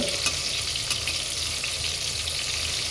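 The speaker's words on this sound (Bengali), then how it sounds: "চলো সব করে পটল কটা ভেজে নিই" Pointed gourd slices fry in a pan with a steady, close hiss of hot oil, an unbroken sizzle carrying a few faint crackles and no voices.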